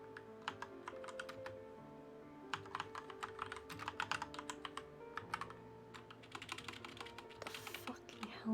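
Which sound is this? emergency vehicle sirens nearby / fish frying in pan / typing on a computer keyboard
typing on a computer keyboard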